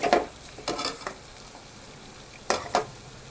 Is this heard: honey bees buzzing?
no